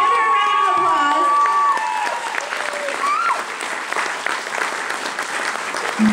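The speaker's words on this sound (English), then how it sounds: "give her a round of applause." A crowd at a college drag show event applauds and cheers, with a few whoops and shouts rising over steady dense clapping that continues to the end.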